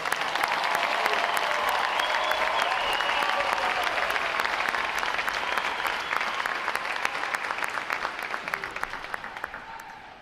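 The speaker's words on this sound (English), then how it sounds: "So how about a round of applause for the other 12 graduating divisions today, folks?" Sustained audience applause at a U.S. Navy recruit training boot camp graduation, a dense crowd clapping steadily for about ten seconds before thinning slightly at the end.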